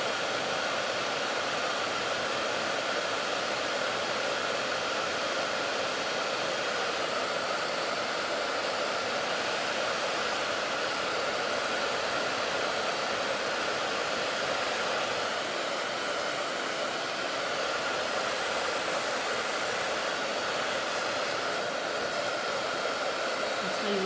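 A handheld blow dryer roars steadily and loudly for the whole stretch, blowing over copper leaf on a clipboard, a constant broadband hiss with no talking.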